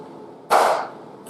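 A single sharp crunching chop as a heavy blade cuts a chicken in half straight down through the bone, close and loud, then quiet.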